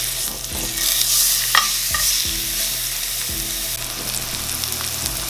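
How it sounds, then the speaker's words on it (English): A large piece of meat searing in a hot pan that is barely big enough for it, giving a loud, constant close-up sizzle with repeated scraping and shifting sounds. "Gonna sear it on all sides, and then we're gonna finish it in the oven"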